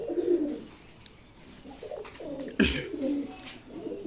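House pigeons in their coop give several soft, throaty coos in repeated rolling phrases, heard close and fairly quiet with no voices.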